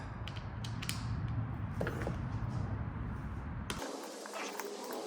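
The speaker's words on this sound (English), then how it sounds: "Take your brackets, put them on, tighten them up." Creaking mechanical clicks and scrapes as an Allen key tightens metal mounting brackets for a FlowPro remote chemical injector bypass, steady and close throughout, the texture shifting abruptly near the end.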